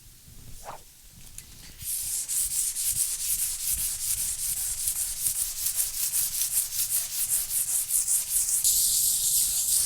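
An existing stained wood finish is sanded by hand in a steady, continuous rasping rub that starts after a short quiet pause, close and loud, with rhythmic back-and-forth strokes and no speech.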